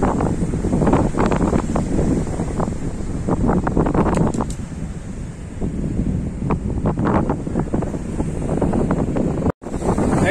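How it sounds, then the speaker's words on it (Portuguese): Strong wind buffets the microphone over the steady roar of surf at Praia da Reserva beach in Rio de Janeiro, loud and continuous throughout with a brief dropout near the end. "tamo aí ó, na Praia da Reserva. Olha só. Olha que lugar incrível, hein?"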